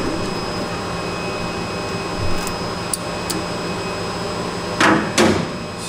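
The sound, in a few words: CNC lathe turret moving out of the way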